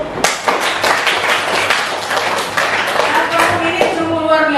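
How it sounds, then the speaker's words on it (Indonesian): Audience clapping at an Indonesian university teaching-practice session, a few distinct sharp claps rising into light scattered applause, fairly close, with a voice and other sounds mixed in near the end. "Tepuk tangan dulu."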